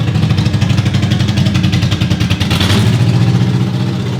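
A BMW E34 engine with several bent valves runs steadily and loud, a rough, uneven idle with a slight rise in revs partway through.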